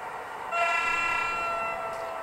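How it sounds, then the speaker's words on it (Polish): A model locomotive on a model railway layout sounds its horn, a thin, steady electronic toot that starts abruptly and holds for nearly two seconds, fairly loud and close, alone without voices. "Jedna marna trąbka, która mnie przeraża."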